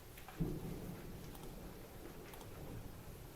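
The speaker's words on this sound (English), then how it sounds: "So we have hail falling here at KLBK right now." Hail and rain come down outside a TV station during a severe spring storm, a continuous rough patter with a sharp thump near the start, steady and moderately close throughout.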